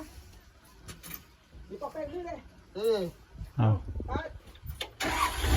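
Komatsu PC130 excavator engine cranking and catching, then idling roughly and building up to a louder, rising rumble at the end, with people talking over it nearby.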